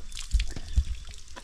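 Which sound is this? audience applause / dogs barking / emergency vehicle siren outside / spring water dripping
spring water dripping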